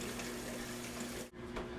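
Tap water pours steadily into a container being filled to soak acorns, a constant close rushing splash with a brief dip near the end and no talking.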